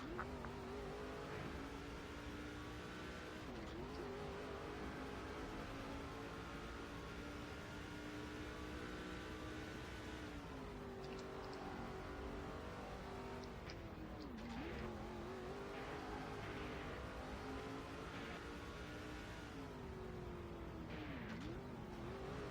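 Race truck engines from the NASCAR 07 Craftsman Truck Series game roar continuously at full throttle, with pitch dipping and rising through braking zones and corners, loud and steady throughout with no talking.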